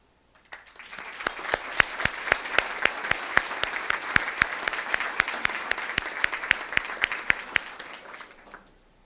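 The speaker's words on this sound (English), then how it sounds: "Please stand and receive our applause." Past Hall of Fame inductees at a Southwestern College educators' induction ceremony are greeted by applause. It begins with scattered separate claps, swells into a steady round and then fades away at the end.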